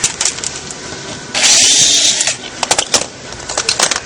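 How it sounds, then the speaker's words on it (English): A power drill whirs in one steady burst of about a second, pre-drilling a hole during a Chevy Corvette C6 exhaust filler panel installation, surrounded by clicks and knocks of handling. "So pre-drill this."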